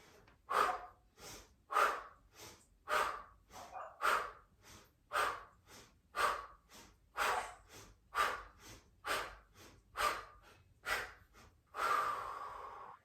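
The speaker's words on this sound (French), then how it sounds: "On inspire, on expire par le nez." Slow yoga breathing through the nose, about a dozen even cycles of inhaling and audible exhaling, close and quiet, with a regular rhythm and a longer final breath.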